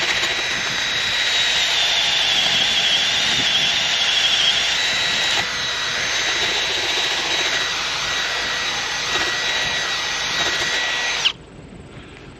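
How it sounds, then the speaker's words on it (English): A Milwaukee M12 hammer drill bores through a metal gate with a loud, steady grinding whine that holds for about eleven seconds, then cuts off abruptly with a small click. "Got drilled through that"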